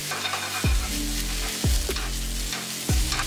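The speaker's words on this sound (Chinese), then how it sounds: "热锅倒入香油，先放入不容易熟的白菜梗与蟹味菇，微微翻炒后加入硬盘中的所有蔬菜" Cabbage stems and shimeji mushrooms stir-frying in sesame oil in a hot pan, a steady close sizzle punctuated by four regular low thuds of the pan being tossed or knocked, with no voices.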